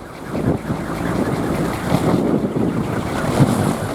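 Strong wind gusting against a kolecer, a traditional bamboo windmill set in rice fields, as a loud continuous roar with buffeting microphone noise and no talking.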